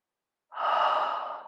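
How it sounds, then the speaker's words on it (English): One soft, slow breath follows a moment of silence, close and gentle, airy and sustained as it gradually fades, during a qigong practice after shaking exercises. "Soft breathing."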